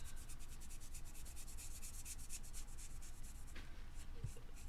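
Steady, continuous rubbing and scratching as acrylic paint is worked onto a ceramic piece for a faux bronze finish, a close rhythmic scrubbing texture throughout.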